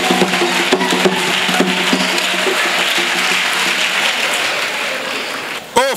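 A church congregation applauds loudly and continuously for several seconds, dense clapping filling the room with a few sharper claps standing out, ending in a brief swell of voices.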